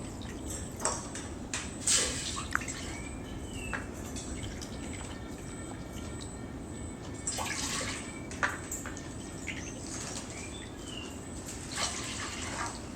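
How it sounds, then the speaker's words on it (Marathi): Water pours into a pot on a gas stove, a continuous close splashing rush with a few clinks and knocks of the pot, steady throughout with no talk. "त्याच्यासाठी तीन वाट्या पाणी आपण आधी घेणार आहोत मोजून घ्यायचंय पाणी"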